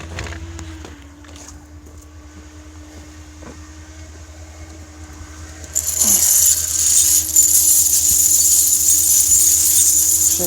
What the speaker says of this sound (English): Shake all the snow off, throw them on the ground a couple times.